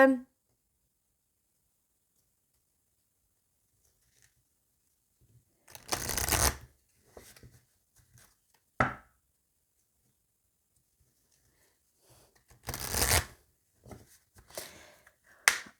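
Tarot cards being cut and shuffled, heard as two short bursts of riffling papery flutter with a few scattered clicks and taps between long stretches of silence.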